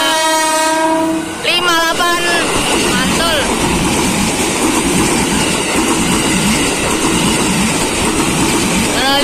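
A KRL commuter train, a JR 205 series set, sounds a loud horn as it approaches. It then roars past close by, with a continuous rumble and rattling wheels on the rails.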